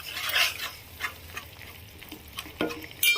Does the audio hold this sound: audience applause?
no